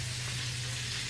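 Fish frying in a pan gives a steady, continuous sizzle with a low hum underneath, close and even throughout, with no voices.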